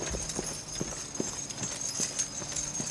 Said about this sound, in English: Cart with one horse in front of the other